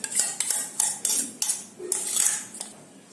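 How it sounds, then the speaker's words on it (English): Spoon scraping and clinking against a bowl while mixing sauce into grated carrot and cucumber, a series of sharp metallic clinks at an irregular rhythm, close and clear with no talk. "Now we'll take this bowl where we have grated carrot and cucumber. We'll mix this sauce into this."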